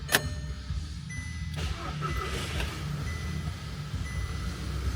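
Audi A3 8P with a replaced turbo, a sharp click followed by the engine cranking and catching into a steady idle rumble, close and continuous for several seconds.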